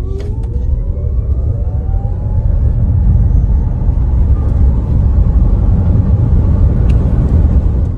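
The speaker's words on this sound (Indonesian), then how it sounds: "kita bisa coba ini ya sampai ujung sana kira-kira bisa kecepatan berapa dan suaranya kayak gimana sih kalau mobil listrik dibejak" A 2024 Toyota bZ4X electric car accelerates hard along a road, a loud, steady low rumble of tyres and wind with a faint rising whine climbing in pitch over eight seconds.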